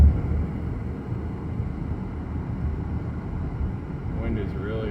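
Wind blowing snow during a winter storm, a steady low rushing and buffeting roar heard from inside a four-wheel-drive vehicle, with a voice faintly speaking near the end.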